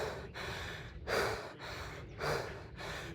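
Heavy, ragged breathing from a runner just after a 3 km run: a few loud gasping exhales and inhales in an uneven rhythm, close to the microphone, with no talking.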